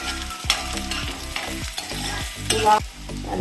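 Koorka and meat with ginger are stirred in a frying pan: repeated scraping strokes of a spoon against the pan over a soft sizzle of cooking, close and moderately loud, with no talking.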